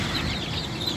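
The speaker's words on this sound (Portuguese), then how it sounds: "Hoje essas galinhas aqui, no pet shop de junho." Chickens cluck in a pet shop, a close, continuous cluster of cackling calls against busy background noise, without any speech.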